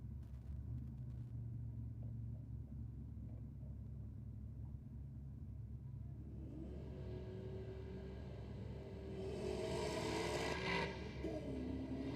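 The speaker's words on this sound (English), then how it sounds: "A big turn of the tyres there, out of the VS Ute." At a Sydney drag racing night, an HSV sedan and a VS Ute launch with tyres spinning. A low, steady rumble of engines swells into a louder roar and a rising whine near the end, heard from a distance.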